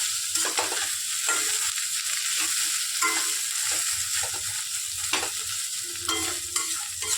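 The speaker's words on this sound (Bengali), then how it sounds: "দিয়ে চাপটা ভালো করে মাছের সঙ্গে অনেকটা নেড়ে নিতে হয়" Hilsa fish head fries with leaf paste, black cumin and garlic in a pan, soft steady sizzling broken by repeated scraping spatula strokes at a loose, regular rhythm.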